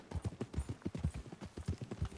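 Horse hooves clip-clopping steadily in a video game, a brisk, even rhythm of close, loud hoofbeats continuing throughout.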